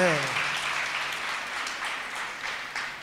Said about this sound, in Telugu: ఒకసారి అందరు గట్టి చప్పట్లు కొట్టాలి.